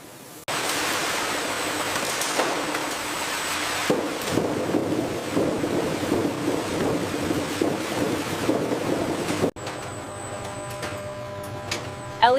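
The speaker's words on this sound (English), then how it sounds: "A second wash tunnel uses finer mist" A papaya factory wash tunnel sprays fine water mist with a steady, hissing rush. It starts abruptly, holds evenly with faint mechanical clatter, then drops to a quieter hum.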